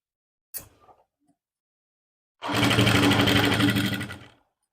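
Sewing machine stitching a center seam with a long stitch on a lined suit, a few faint handling clicks, then a loud close burst of rapid mechanical whirring lasting about two seconds before winding down.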